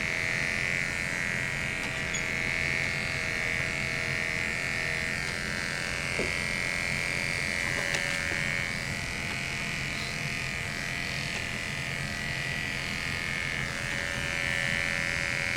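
Electric hair clippers shave a patient during veterinary surgical prep, buzzing steadily and close for the whole stretch with a constant nasal hum that barely changes as the blade moves over the skin, with no one talking.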